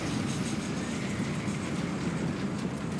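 Train rolling by in Red Dead, a dense, steady roar of wheels and carriages filling the whole clip, loud and close with no pauses.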